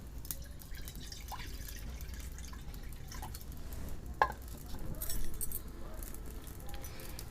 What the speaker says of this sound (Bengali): কড়াই আমি অল্প পানি দিয়ে দিচ্ছি।